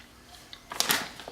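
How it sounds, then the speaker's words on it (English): Granola being chewed during a taste test, a chewier, low-carb, grain-free variety; a quiet pause gives way to a short burst of close, crisp crunching and mouth noises that lasts about half a second. "taste test of Granola"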